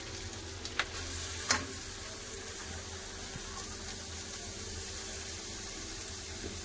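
Cabbage goes into a pan of fried potatoes, giving a low steady sizzle with two brief sharp clinks near the start and otherwise quiet frying; no talking.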